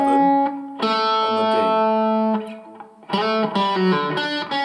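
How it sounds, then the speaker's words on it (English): Distorted electric guitar plays the second part of a riff, with sustained overdriven notes, a brief dip, then a return to chunky riffing, loud and without speech. "So the second part of the riff sounds like this."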